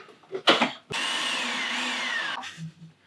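Electric mixer whirring steadily as it mixes cavatelli dough with flour, a loud close motor drone running for about a second and a half after a brief clatter, then cutting off.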